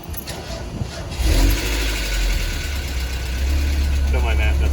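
A Mazda Miata engine starts after a differential repair, building into a steady, close, loud idle with a rumbling low drone and mechanical chatter throughout.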